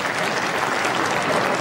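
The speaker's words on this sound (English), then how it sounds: "a little applause to the crowd there from Alex Liu" Applause from the crowd at a professional tenpin bowling match, the 2008 World Tenpin Masters, a steady dense patter of clapping filling the whole short stretch with no talk over it.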